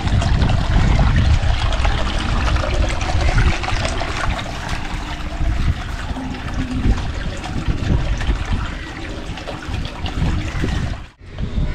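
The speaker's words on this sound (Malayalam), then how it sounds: "ഇനി നമുക്ക് നമ്മുടെ മോട്ടർ ഒന്ന് ഓണാക്കി കൊടുക്കാം." A motor circulates water in a new koi carp tank, producing a constant trickling, splashing flow nearby that briefly cuts out near the end.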